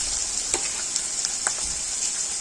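Onion fries in a pan for a buff dish, giving a steady bright sizzle with occasional crackles and stirring pops.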